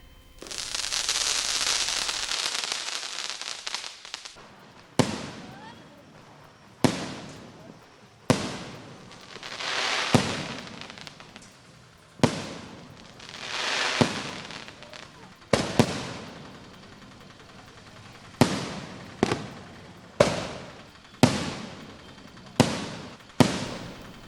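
Diwali firecrackers burst during early-morning celebrations in Chennai: a long crackling hiss opens, followed by a string of sharp, loud bangs at irregular intervals, some with crackling tails, and a voice now and then.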